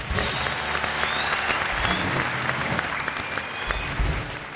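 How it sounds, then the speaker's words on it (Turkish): Loud, sustained applause from a studio audience for the teachers on a Turkish comedy talk show, full and dense, with a few voices mixed in. "Alkışlar hocalarımıza gelsin."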